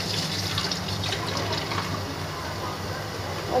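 A small splash of water being added to homemade slime, heard as a soft, steady trickling hiss that runs the whole clip at moderate level with no talking over it.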